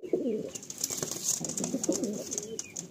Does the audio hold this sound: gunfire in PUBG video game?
no